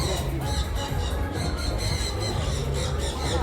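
An eagle gives a loud, continuous harsh squawking cry, close by, over a dense jungle background with no talking.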